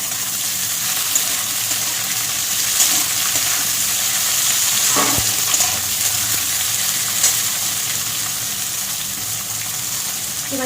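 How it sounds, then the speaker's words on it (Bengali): Bitter gourd with dry red chilli fries in a pan as eggplant is added, a constant loud sizzle filling the whole stretch with a brief clatter partway through and no talk. "উচ্ছেটা বেশ অনেকটাই ভাজা হয়ে গেছে। এবার দিয়ে দেবো বেগুন"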